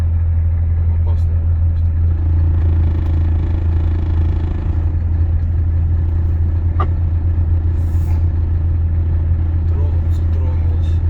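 A Volvo FH 540 truck pulls away on snow, its loud low engine drone and rumble steady and close throughout, with faint clatter and people talking over it.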